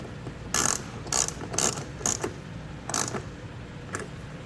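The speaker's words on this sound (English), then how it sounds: "And just run that down, and we'll secure it with a 3/8" A ratchet with a 3/8 socket runs a nut down onto the stud of a 40 amp breaker, giving several short, crisp bursts of clicking separated by pauses, close and fairly quiet.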